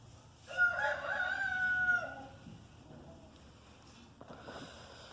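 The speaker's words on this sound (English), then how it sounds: "So far I've only seen one of the quails actually crowing." A quail crows once, a single drawn-out call that rises and holds for about a second and a half, fairly close and clear over a quiet background with faint rustling afterward.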